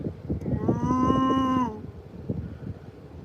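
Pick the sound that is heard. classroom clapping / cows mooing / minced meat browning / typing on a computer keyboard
cows mooing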